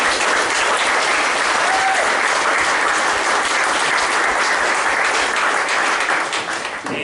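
Dense, steady applause from an audience at a rugby club prize-giving dinner, loud and continuous for the whole stretch and tapering slightly at the end.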